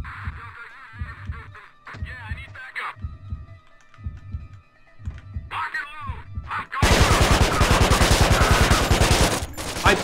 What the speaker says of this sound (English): I just shot like 50 rounds in there.